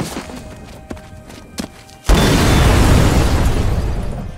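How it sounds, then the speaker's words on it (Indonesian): A sudden loud car explosion in an action film erupts after quiet rustling and a few thumps, followed by a sustained roaring rumble of debris and fire. "Jack sadar kalau mobilnya akan meledak"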